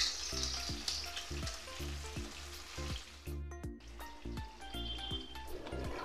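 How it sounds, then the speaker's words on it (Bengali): Onion fries in oil with bay leaf for a dal and egg dish, a close steady sizzle with regular spatula scrapes and a low repeating tonal hum in the background. "এবার আমার পরিমাণ মতো পেঁয়াজ দিয়ে দিচ্ছি।"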